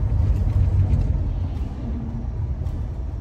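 Steady low road rumble from inside a car driving on a winter morning, a continuous engine and tire drone with no distinct events and no talking.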